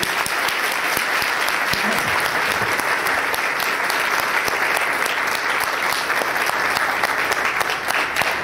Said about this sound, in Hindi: आप तालियां बजाएं।